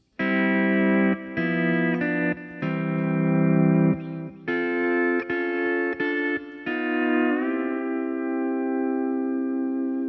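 A pedal steel guitar plays a lick of sustained, gliding chords, each ringing out before the next, with a final note sliding and holding to fade.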